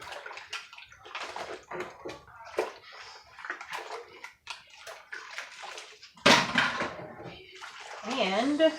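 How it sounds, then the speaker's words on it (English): Canning jar lids rinsed under running water, splashing and sloshing in bursts with clinks, a voice talking over parts of it. "I'm going to give these a rinse as well"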